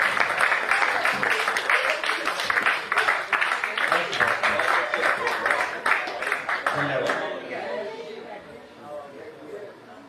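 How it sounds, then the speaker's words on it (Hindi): Loud, sustained audience applause welcoming poet Sunil Sharma on stage at a Hindi kavi sammelan, dense crowd clapping for about seven seconds, then fading into quieter room noise. "एक बार जोरदार तालियों से आदरणीय सुनील शर्मा जी का स्वागत करें।"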